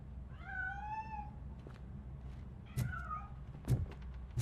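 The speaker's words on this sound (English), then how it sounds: "There it is! It's escaping!" A cat in Robocop: Rogue City gives a clear drawn-out meow, then a shorter second meow over a low hum, followed by a few scattered thumps and clatters as it scrambles away.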